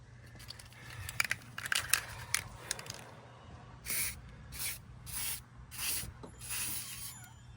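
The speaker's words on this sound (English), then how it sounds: "I sprayed the inner race of the cam with white lithium grease" White lithium grease is sprayed onto the inner race of a cam on a Claas 360RC Variant baler intake feed. Some metallic clinks and handling come first, then five short hissing aerosol bursts, close, with no talking.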